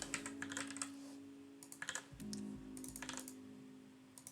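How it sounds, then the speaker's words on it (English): Someone types on a computer keyboard while writing game engine code, bursts of quick, light key clicks close by with short pauses between them, over a faint steady hum and no voices. "I'm typing everything one too many times right now."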